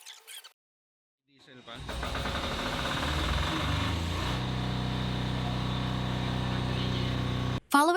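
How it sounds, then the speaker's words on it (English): A diesel generator set fueled with biodiesel made from used cooking oil starts up after a brief silence and runs at a steady, loud, droning hum with a low knocking throb before cutting off abruptly. "The gen set was then fueled with the newly produced biodiesel to verify its performance under actual"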